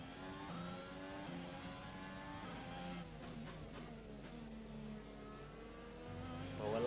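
An F1 car drifting around the Baku street circuit in the F1 2021 racing game, its engine a steady, loud, high-pitched whine that holds through the corner and swells again near the end.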